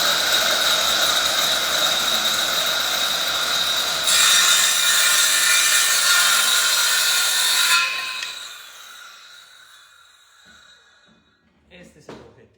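Circular saw cutting a melamine-faced particleboard panel: a loud, sustained high whine of the blade biting through the board for about eight seconds, then spinning down and fading to quiet with a few faint knocks at the end.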